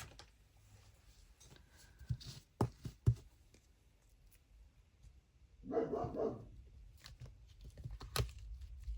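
A dog barks in a short burst of several rapid barks, moderately close, among scattered thumps and handling noises in a quiet room.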